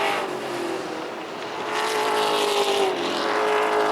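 Race cars on a racetrack roar continuously with a steady, loud engine drone that swells and shifts pitch as cars pass, with no talk over it.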